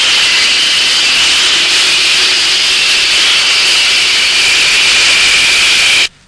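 A steam engine lets off steam in a loud, steady hiss that holds constant for about six seconds before cutting off abruptly, with no voices.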